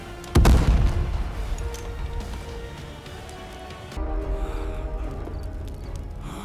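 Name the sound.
cannons firing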